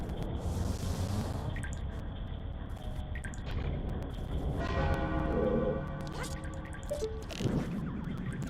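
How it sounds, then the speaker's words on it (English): Church bells from a distant town in a video game ring out faintly in slow, sustained tones, mixed with dripping water and ambient game sounds nearby, no voices. "it's amazing that the bells in town can be heard from here"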